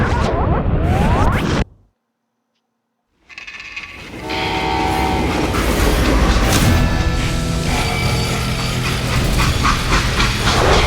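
A train in the video game Call of Juarez: Gunslinger rumbles along with a horn sounding and rail clatter, after a brief silent gap, loud and continuous.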